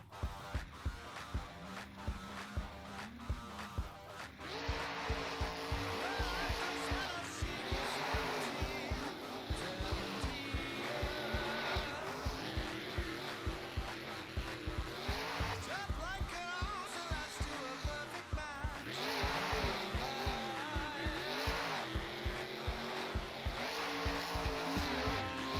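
Monster trucks JCB Digatron and El Toro Loco racing in a semifinal, engines roaring loudly and continuously with revving surges, while an announcer talks over the noise.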